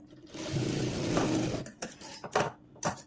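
A sewing machine stitches piping onto a blouse. Its motor whirs in a steady burst for about a second, then a few close clicks and handling knocks follow.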